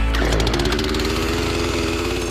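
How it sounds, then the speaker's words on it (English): A trusty chainsaw cutting into a neighbor's fence in Poughkeepsie, New York, roars loud and close with a steady, buzzing engine drone that revs slightly at the start. "you can fire up your trusty chainsaw"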